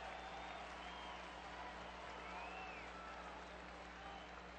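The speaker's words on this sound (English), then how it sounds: "the crowd reacting early here to a big pitch coming up in the first inning" Baseball stadium crowd at a New York Yankees at Los Angeles Angels game, a steady broad roar and scattered applause rising early in the first inning, continuous and loud with a faint announcer voice underneath.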